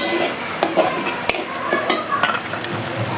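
Sliced onions, five medium ones, tipped into hot oil with melted caramelized sugar for a chicken and moong dal curry, crackling and sizzling steadily up close with scraping stir strokes and a few sharp spatula knocks.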